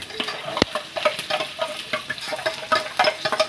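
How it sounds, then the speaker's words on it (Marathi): Soaked dal being sautéed with browned onion, cumin and mustard seeds in a pan, close frying sizzle with irregular scraping stir strokes and a sharp clank near the start. "बऱ्यापैकी कांदा लाल झाला आहे आपण त्याकडे डाळ टाकून दिली"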